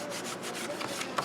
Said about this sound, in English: Make sure you're rubbing really good around your shaky bit.